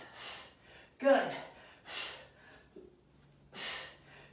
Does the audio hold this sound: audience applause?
no